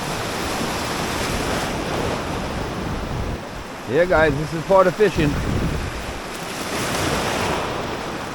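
Rough surf on a Jamaican shore after Hurricane Beryl, heard as steady broadband wash of waves with wind noise on the microphone, and someone talking briefly partway through.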